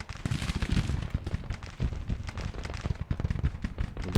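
Artillery cannon fire in the Civil War strategy game Grand Tactician, a dense run of booming, overlapping shots and crackling volleys that keep going without a break, loud and close, with no talk over them.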